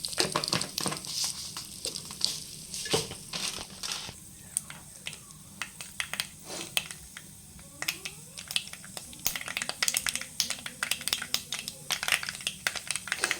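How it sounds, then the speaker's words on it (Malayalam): Mustard seeds spatter and crackle in hot oil for a home-cooked Kerala dish, giving dense irregular sharp pops over a low sizzle, close and lively throughout. "എണ്ണ മൂത്ത് കടുക്"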